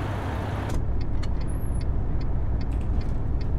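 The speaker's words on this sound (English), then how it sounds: "I'm gonna keep pushing the truck." Truck engine in American Truck Simulator, a steady low rumble with short hissing air bursts over it, running alone at close range.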